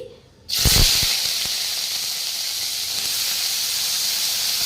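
Mustard seeds and dried red chillies hit hot oil as a tempering for a pumpkin dish, bursting into a loud sudden hiss with a few pops, then settling into a steady, close, sustained sizzle.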